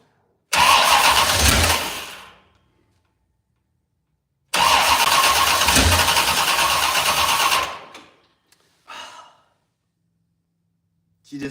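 A 1968 Chevrolet C10 with a 6.0 engine cranks hard in two long, loud bursts of about two and three seconds, separated by a pause, then gives a brief short crank that fails to catch.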